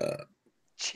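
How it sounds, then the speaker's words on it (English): A loud, dirty burp rasps out at close range in one short blast, fading into silence before a breathy noise at the end. "Dirty burp."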